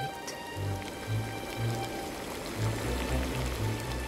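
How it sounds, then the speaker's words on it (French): A black mixture bubbles in a cauldron as a cartoon effect, low gurgling blips popping in an uneven rhythm over a steady soft wash, moderately loud and without speech. "Son grimoire lui indiquait de plonger le tout dans un chaudron et de faire bouillir pendant 20 minutes."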